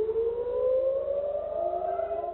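An air raid siren sounds a rocket alert in southern Israel near the Gaza border, a loud sustained wail slowly rising in pitch throughout.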